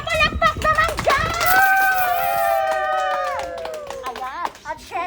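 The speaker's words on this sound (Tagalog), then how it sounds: "Palakpak naman dyan!" At a birthday celebration, guests clap in quick bursts near the start. Voices then carry long cheering, sung tones that rise over scattered clapping before trailing off.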